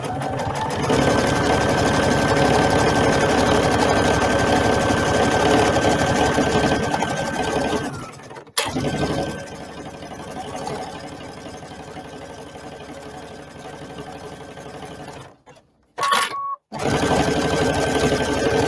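A sewing machine runs fast and continuously while stitching a kid's apron, a loud, close mechanical whir with two short pauses near the end before it starts again.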